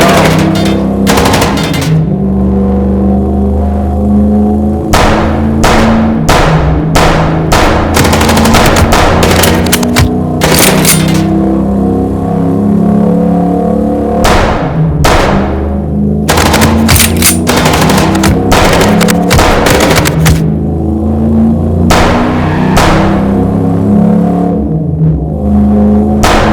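Gunfire rattles through a car chase shootout in the video game Chicken Police: loud, repeated bursts of rapid machine-gun fire over a constant engine roar, spread across nearly half a minute.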